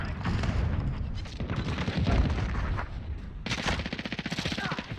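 Rapid gunfire in a Modern Warfare multiplayer match, dense bursts of shots and automatic fire throughout, turning into a fast rhythmic machine-gun rattle near the end, with radio-style voices calling out over the battle.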